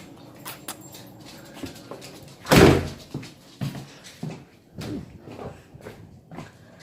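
A door bangs open loudly once partway through to let a dog in, followed by scattered footsteps and light thumps moving around the room.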